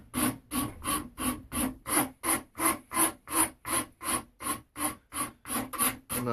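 A file rasps back and forth over freshly glued longbow nocks, trimming excess glue to match the bow, in about fifteen steady rhythmic strokes, close and crisp.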